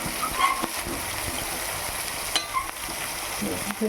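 Chicken fries in a pan with a steady soft sizzle. Scattered clinks and scrapes of stirring break through it, and there is no talk.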